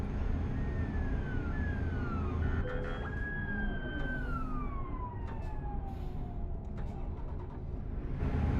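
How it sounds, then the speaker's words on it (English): A Turkish police siren in Euro Truck Simulator 2 wails in long gliding tones rising and falling over a steady engine drone, moderately near, with no one talking over it. "That was a siren I've not heard before."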